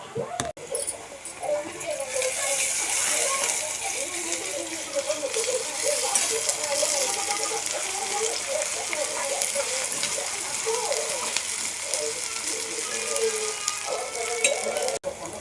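Ginger garlic paste sizzles in hot oil, a steady, bright frying hiss running throughout with occasional stirring scrapes, while a person talks over it.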